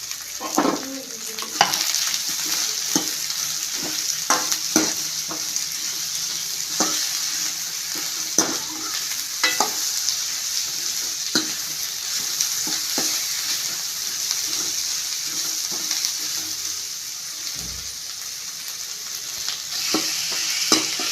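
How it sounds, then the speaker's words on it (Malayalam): Two thinly sliced onions fry in a pan for a Kerala-style restaurant egg roast, giving a steady sizzle throughout while a utensil stirs them with repeated close scrapes and taps. "ഇതിൻ്റെ പച്ചമണം മാറുന്ന വരേക്കും സവാള ഒന്ന് ഇളക്കിക്കൊണ്ടിരിക്കണം"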